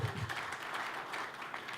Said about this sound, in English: So give him a giant round of applause